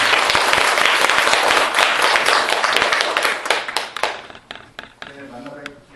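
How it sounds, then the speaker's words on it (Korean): Loud audience applause welcoming a guest lecturer to an accounting lecture, dense clapping that fills the room for about four seconds, then thins to a few scattered claps as a voice begins speaking. "여러분 나오실 때 큰 박수로 환영해 주시기 바랍니다"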